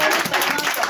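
A church congregation claps together in a brief, dense burst of applause.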